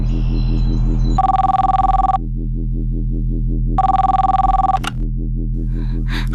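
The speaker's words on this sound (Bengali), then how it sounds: "বাড়ির ল্যান্ডলাইনে কেউ একজন ফোন করে।" Landline telephone ringing in two long electronic bursts separated by a pause, loud and close over a steady background music bed, with no one speaking.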